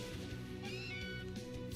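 Meowth cry in Pokémon Let's Go Pikachu, a short cat-like meow with a rising and falling tone, heard faintly over steady game music.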